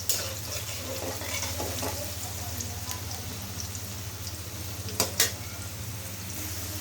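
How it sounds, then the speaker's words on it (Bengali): Potato pieces frying in oil seasoned with turmeric and salt, a steady close sizzle with faint crackles and two brief sharper stirring clatters near the end. "এখন আমি সুন্দর করে ভেজে নিব।"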